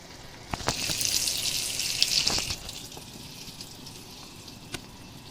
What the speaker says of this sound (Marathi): आता आपण हे तव्यामध्ये 10 ते 15 मिनिटं पापलेट छानपैकी फ्राय करून घेतलेले आहेत